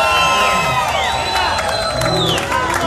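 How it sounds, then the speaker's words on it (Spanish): Loud, dense crowd cheering and whooping with applause at a live salsa concert, a sustained roar of many voices filling the space without pause. "Oye, más aplausos, señores,"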